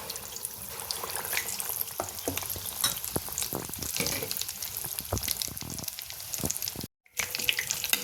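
Vada balls made from a spiced potato filling deep-fry in oil on a medium gas flame for street-style vada pav, giving a steady dense sizzle and crackle with scattered sharp pops and one brief dropout near the end.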